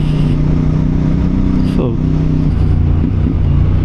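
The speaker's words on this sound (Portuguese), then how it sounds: "Este som de escape está porreiro, parece" A CFMoto 450 MT motorcycle on its original exhaust rumbles steadily while riding, with a short throttle blip and drop, loud and close under a voice.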